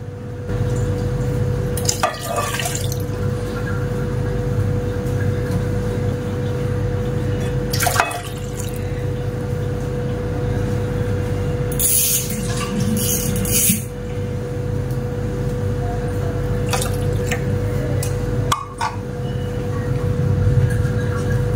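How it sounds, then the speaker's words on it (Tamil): Water is poured steadily into a cooking pot holding washed agar agar, a continuous close splashing stream with occasional drips and small bumps, and no talking. "இப்போ தேவையான அளவு தண்ணி சேர்த்துக்குருவோம்."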